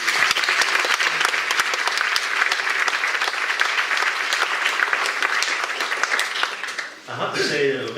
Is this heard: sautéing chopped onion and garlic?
no